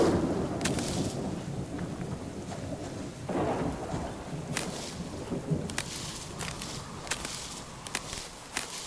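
Rain falls steadily in the survival video game Subsistence while thunder rumbles and cracks several times, with footsteps moving through the wet ground and no one talking.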